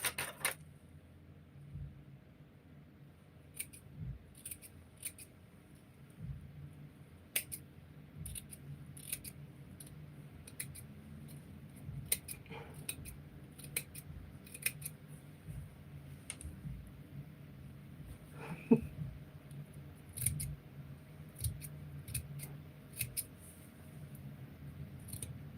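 Scissors snip through fabric during a sewing project, a series of sharp, quiet clicks and cuts spread irregularly over a soft, steady room hum.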